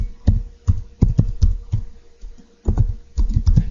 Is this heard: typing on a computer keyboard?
yes